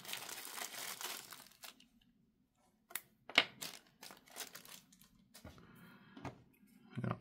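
A fabric accessory pouch for a fingerprint-lock external SSD is handled close up, with soft crinkling, rustling and a few sharp clicks and scrapes coming in short irregular bursts around brief pauses.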